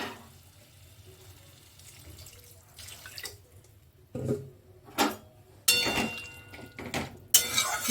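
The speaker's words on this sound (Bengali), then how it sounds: "আর একটু দেব জল" Water poured into a cooking pot of vegetables in mustard paste being cooked, a faint trickle followed by several short splashing bursts and soft clinks, close and without talk.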